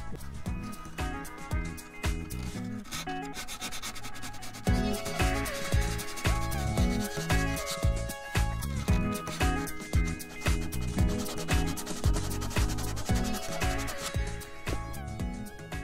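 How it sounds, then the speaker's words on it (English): A small tube of sandpaper rubbing out a channel in balsa wood on an RC plane kit build, with rapid, close, rhythmic back-and-forth scratching strokes that continue steadily throughout, with no talking. "I'm taking the sandpaper and I got a small little tube of sandpaper and I'm trying to sort of sand out sort of a little sort of channel"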